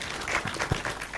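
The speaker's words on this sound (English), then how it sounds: "So can we clap for them again?" Applause from a conference audience, a short burst of scattered claps in a room, moderately loud and brief.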